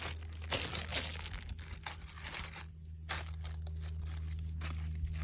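A No-Line microfibre cloth being unwrapped from its packaging, with close, quiet crinkling and tearing of plastic in irregular bursts and brief pauses.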